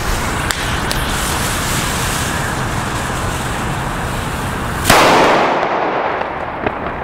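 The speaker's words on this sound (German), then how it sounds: "Also der war jetzt echt nicht so stark. Aber immer noch ein guter Böller." A King firecracker goes off with a sharp, fairly dull bang near the five-second mark, followed by a brief rushing decay, over a steady background of outdoor traffic and wind noise.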